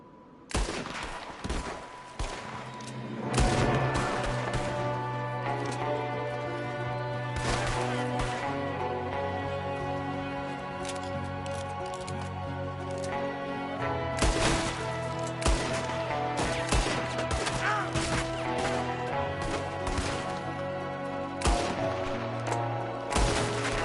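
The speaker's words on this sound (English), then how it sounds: "There's another one shooting from the window." Sustained gunfire in a Red Dead Redemption 2 shootout, a gunman firing from a window, with dense rapid shots and volleys cracking over a low musical drone for most of the stretch; brief voices cut in now and then.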